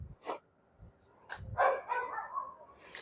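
A dog barks from behind a house along a walking route, a few separate barks and yips at moderate distance, the last ones louder and more sustained, with no talk over them.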